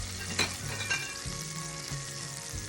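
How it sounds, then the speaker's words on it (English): Unsalted butter melting in a pan and sizzling steadily, with a few light clinks and stirring scrapes near the start and low thumps under the frying hiss. "I added 2 tablespoons of unsalted butter to it, and I am just gonna let this melt"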